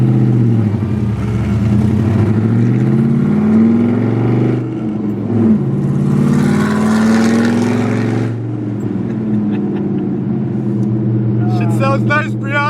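An LS-swapped car engine runs on a drive with a deep, loud, steady drone whose pitch rises and falls with revving, and a voice speaks briefly near the end.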